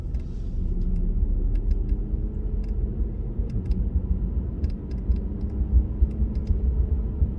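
Cabin of a 2017 Cadillac ATS driving on the road, a steady low engine and tire rumble with faint light clicks and rattles over it.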